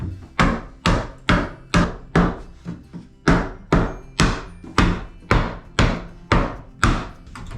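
A hammer taps thicker bathroom wainscoting trim back into place with about a dozen sharp, loud wooden knocks, spaced roughly half a second apart, close and alone.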